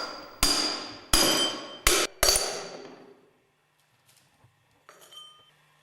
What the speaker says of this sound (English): Drive the grooved ball bearings and the distance bush out of the clutch drum.